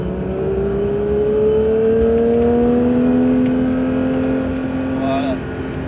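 A Porsche 911 GT3 accelerates on the Mireval circuit, its engine note a loud whining tone that climbs steadily in pitch, then cuts off near the end, with an instructor's voice faintly present.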